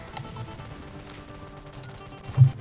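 Gunfire at a turret in a Roblox shooter, a run of faint, muffled shots under game sound that ends in one louder, punchy report near the end.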